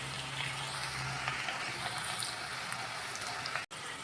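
Chopped onions sautéing in a pan over a medium-low gas flame give a steady, soft sizzle and crackle at close range, with a faint lower hum early on and no talking.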